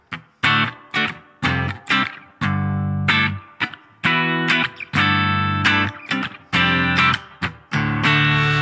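Electric guitar through a BOSS GT-1000 with reverb and extra distortion, a run of loud chopped chords and short strummed stabs with reverb tails, played alone with no talking.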